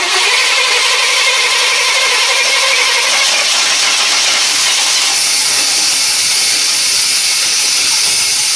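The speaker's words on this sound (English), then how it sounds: "Just keep cranking it." A 1991 GMC Jimmy engine being cranked, a loud, steady, hissing mechanical drone that holds without a break for the whole stretch and never settles into a running idle.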